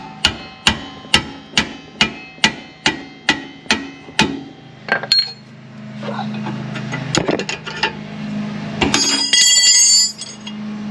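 A 17mm spanner clanks loudly against metal on the brake bolts of a Toyota Supra, about a dozen sharp, ringing metallic strikes in a quick steady rhythm up close, followed by scraping, rattling and mechanical noise.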